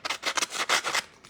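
A Stampin' Up distressing tool scrapes along the edges of card paper, giving a close series of about seven short, dry rasping strokes in a steady back-and-forth rhythm.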